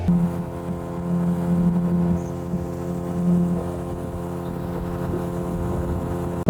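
A boat's motor hums steadily on a fast, swollen river, a constant tonal drone with faint wind and water rush around it, no voices.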